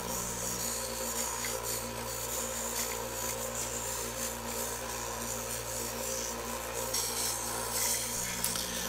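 Steady, quiet rasping of sandpaper rubbing a wooden knife handle, a continuous scratchy friction sound with slight variations in stroke, close up and alone.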